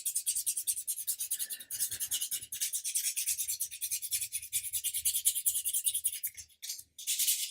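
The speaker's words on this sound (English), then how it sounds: "We'll just keep dropping down the grits until we're happy we've got a nice, smooth finish." A model ship rudder for a 1/80 Amati Endeavour is sanded by hand with progressively finer sandpaper grits, giving close, rhythmic back-and-forth rasping strokes in quick succession with a couple of short pauses.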